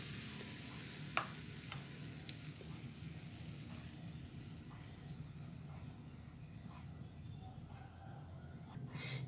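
A soft, steady sizzle of banana pancake batter frying in a nonstick pan over low heat, quiet and even throughout, with a few faint clicks.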